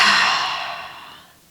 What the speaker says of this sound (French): on expire fortement par la bouche